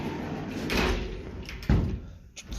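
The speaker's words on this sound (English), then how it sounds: "Trifold sliding doors. You're gonna want to actually slide them this way and latch them" Trifold sliding doors inside a 2021 Keystone Alpine 3712KB fifth-wheel camper slide along their track, giving a rolling rumble followed by a sharp knock as a panel meets its stop, close and fairly loud.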